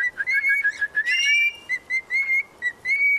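A pet bird whistles and sings up close, a run of clear, rising whistled notes broken by short gaps, loud and alone in a garden setting.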